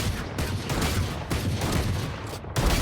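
Shotgun fire in a video game comes as dense, loud, repeated blasts that blur into a continuous barrage, close and without talking.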